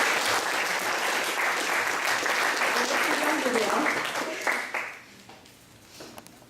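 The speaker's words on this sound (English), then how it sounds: "So let's give a round of applause to the" Sustained applause from an audience at a Toronto charity event, loud and dense for about four seconds before tapering off into scattered claps and quieter room noise.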